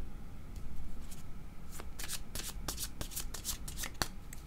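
Tarot cards being shuffled close up, a soft riffling rustle that builds into a quick run of crisp card flicks, alone without talk.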